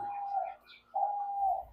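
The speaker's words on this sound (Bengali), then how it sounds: "ক্রিস্টাল ডায়মন্ড আপ ছেলে পাখি।" A male crystal diamond dove on a dove farm gives two drawn-out, soft cooing notes close by, separated by a brief pause, in a quiet setting.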